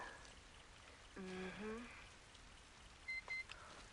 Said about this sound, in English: the rain falling off their faces